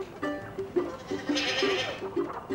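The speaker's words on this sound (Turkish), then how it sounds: "Keçi var lan." A goat bleats repeatedly in short, wavering cries, fairly close, with brief pauses between calls and no talking.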